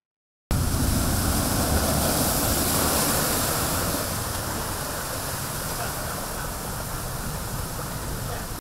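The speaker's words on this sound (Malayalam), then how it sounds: "ആഞ്ഞടിക്കുന്ന തിരമാലകൾ കടലാക്രമണത്തിൻ്റെ മുറിവുകളേൽക്കുന്നത്" Monsoon sea waves crash against the coast in a broad, steady roar that starts abruptly after a moment of silence and stays loud, easing slightly toward the end.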